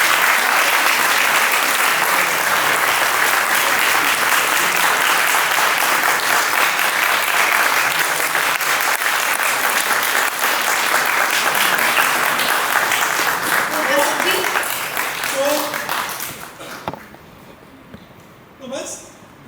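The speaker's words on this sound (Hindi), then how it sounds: "तो आप सब लोग इनके लिए ताली बजाइए" Sustained loud applause from an audience celebrating the cast of a long-running sitcom, a dense steady clatter of clapping that tapers off near the end, with a few voices emerging as it fades.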